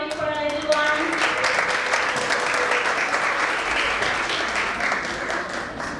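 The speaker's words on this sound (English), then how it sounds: "Parents, keep cheering for our little ones." Steady applause and cheering from parents at a school annual day and sports event for young children, loud and continuous, with a brief tonal announcement chime or music note at the very start.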